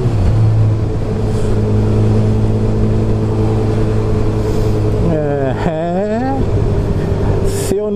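A Chevrolet Camaro engine rumbles at a motorcycle meetup, a steady loud low drone with harmonic hum, then a rising rev sweep near the end, while people talk nearby.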